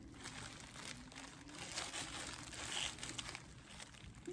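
A knife slicing under the mouth of a silicone baby doll, a faint, steady crinkling and crunching scrape that continues close up with no talk.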